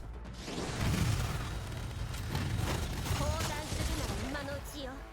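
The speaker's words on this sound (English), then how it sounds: "All those explosions." Rapid bursts of explosions and gunfire from the video game Girls' Frontline 2: Exilium form a dense, rumbling barrage that stays at an even level throughout.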